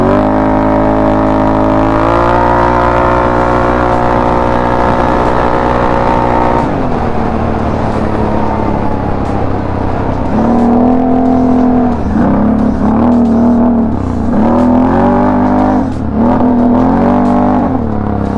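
Can-Am off-road vehicle with a new performance-series exhaust making a top speed run, its engine droning loud and steady, then dropping and climbing again through repeated rev swells and shifts, with no talk.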